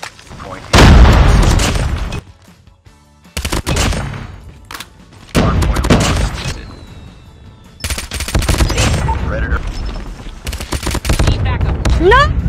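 Rapid bursts of SMG fire in Call of Duty Mobile, loud and close, coming in several separated volleys with short gaps, with a player's voice talking excitedly between and over the shooting.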